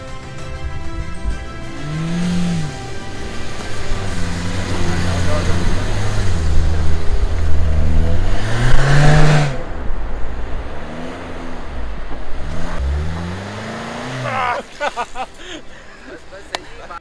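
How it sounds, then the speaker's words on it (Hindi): A car stuck on a rough shore track near Karachi revs hard in repeated rising and falling surges, loud and close, with the engine straining between bursts and voices nearby. "गाड़ी फंस गई है, निकल आएगी, मसला नहीं है, निकाल लेंगे"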